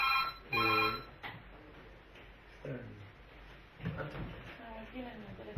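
A telephone rings nearby during a classroom lecture with two short electronic ring bursts near the start, followed by a voice talking in the room.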